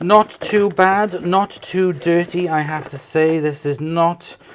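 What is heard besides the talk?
None of the usual background noises is heard.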